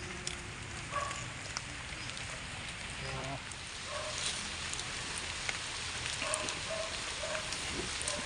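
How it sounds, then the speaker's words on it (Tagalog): Rain patters steadily on surfaces in a yard, a soft even hiss. A few faint voices and small scattered sounds come through underneath it. "Ulan."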